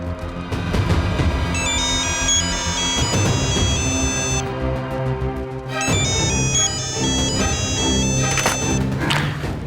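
A loud, busy electronic phone ringtone melody plays in repeating tonal phrases over a cluttered musical background, continuing throughout.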